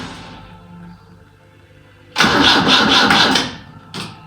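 Land Rover starter motor cranking the engine after three years of sitting, a low rumbling spell, then a loud rhythmic whirring crank for about a second and a half and a short second burst of cranking.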